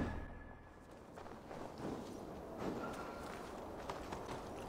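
In Assassin's Creed Valhalla, a horse's hooves pound in a steady galloping clatter, fairly faint beneath a constant wash of wind and ambient noise.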